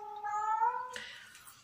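A cat gives a short, clear drawn-out meow lasting under a second, followed by a brief rustle; close and fairly loud, alone with no talk.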